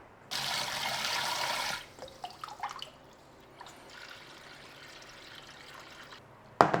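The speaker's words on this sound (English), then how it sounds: "That has to be washed or rinsed until it runs clear." Water gushes into a pot of basmati rice for about a second and a half, then the grains are swished and stirred with uneven sloshing, followed by a quieter steady trickle and a final sharp knock.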